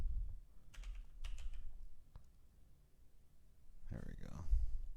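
Scattered keystrokes and clicks on a computer keyboard, faint and irregular, with a voice breaking in near the end.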